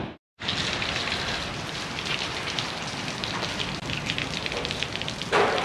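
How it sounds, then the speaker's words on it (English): A light rain shower on a farm sets off a steady, close hiss of falling drops. It starts abruptly after a brief silence and continues evenly with no voices. "Another little shower."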